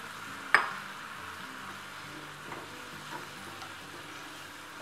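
A shrimp mixture is stirred with shrimp bouillon powder, starting with one sharp clink of a utensil against the bowl, followed by soft, steady wet stirring and a faint sizzling hiss up close.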